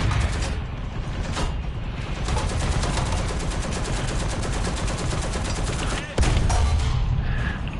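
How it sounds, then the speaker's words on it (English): Sustained rapid gunfire from War Thunder tank combat, a dense continuous rattle of shots with clanking mechanical noise, loud and steady throughout with a brief dip and renewed burst near the end. "Jay, I love the fact you're panic firing."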